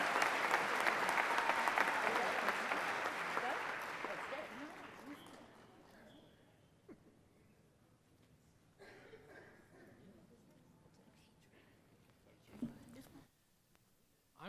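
A crowd applauds and cheers loudly for Lincoln Park's winning team, a dense burst of clapping that fades away over several seconds, leaving quiet murmurs and a brief flare of noise near the end.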